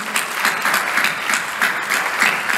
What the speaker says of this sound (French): Merci encore et on les applaudit.